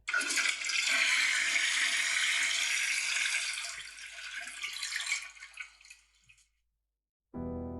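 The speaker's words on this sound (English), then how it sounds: "let me just flush for a second" A toilet flushes in a loud, rushing surge of water that fades into gurgling refill sounds, then cuts off briefly before a steady tone, with no one talking.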